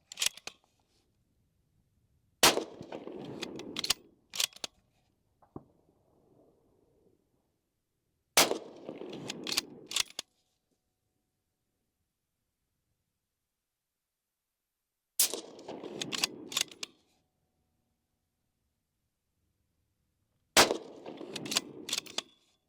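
A Remington 700CP .223 rifle fires 62 grain HPR ammo in five separate loud bursts, each a sharp crack followed by clatter and handling noise. The bursts are set apart by stretches of near silence.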